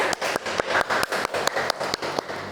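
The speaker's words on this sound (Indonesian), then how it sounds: "Tepuk tangan semuanya." Rhythmic hand clapping in a classroom lesson, a steady run of sharp claps from a small group, close and fairly loud.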